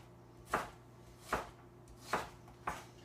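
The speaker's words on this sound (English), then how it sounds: "We're just going to slice the onion all the way through." A knife slices all the way through an onion into long strips, four crisp chopping strikes spaced evenly apart, close and clear with no talking.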